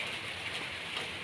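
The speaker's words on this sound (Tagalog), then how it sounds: "ngayon po umuulan na guys." Steady rain falls over the outdoor area where the bananas grow. It makes a dense, even hiss that stays close and unbroken for the whole short stretch, with no voices.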